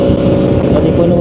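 Traffic on the PTP highway in Johor makes a loud, close, continuous roar of passing vehicles, heavily buffeted by wind noise for the whole short moment.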